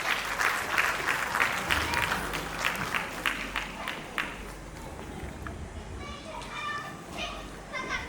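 Lively applause at an annual function in Rishikesh, a dense run of clapping over the first half that eases off while children's chatter and crowd noise continue underneath.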